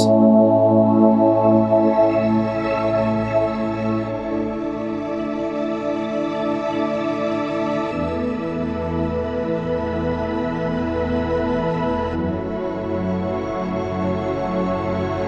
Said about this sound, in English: Usually when I want to bring in more of a prominent pad, I just bring in my high pad